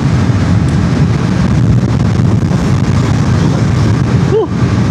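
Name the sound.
wind noise while riding motorcycle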